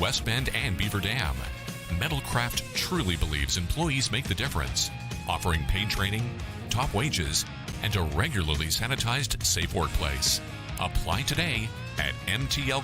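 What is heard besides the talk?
No everyday noises stand out.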